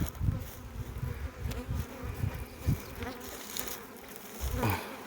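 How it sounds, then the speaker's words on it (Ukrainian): Honeybees carrying pollen buzz around a hive, several passing close in uneven bursts over a quieter background hum, with no talking. "непогано, муха працює,"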